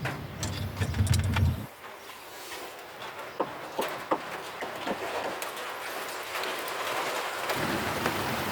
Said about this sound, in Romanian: între timp a început să plouă